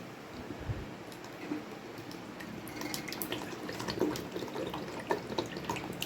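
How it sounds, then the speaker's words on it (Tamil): Oil poured into a pot of boiling herbal hair oil mixture, a soft continuous bubbling and trickling with scattered drips and splashes, fairly faint and close, no voices. "இப்போ நம்ம எண்ணெயை ஊற்றிடலாம் உள்ளார."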